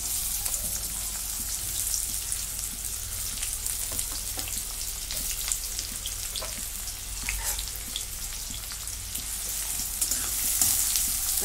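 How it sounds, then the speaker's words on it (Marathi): Chopped onion sizzles and crackles in hot oil with cumin in a kadai, a steady close frying hiss broken by scattered pops and occasional scraping stirs; no one speaks. "कांदा भाजून घेते."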